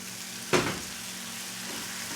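Soy sauce hits a pan of frying ramen noodles and vegetables with a sudden loud hiss, then fades into a steady low sizzle.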